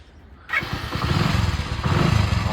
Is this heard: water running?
no